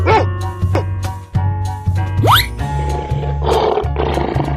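A lion in a 3D animal slide video game gives a loud roar over bouncy background game music, with a rising sweep and other animal calls around it.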